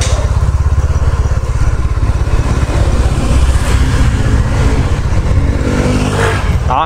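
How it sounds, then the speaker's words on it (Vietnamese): A diesel Toyota Fortuner drives past loudly on a city street at night, its engine a heavy, close, continuous rumbling drone that stays strong throughout. "Chạy ngang cái xe máy dầu Fortuner, nghe nó kêu to như cái máy cày."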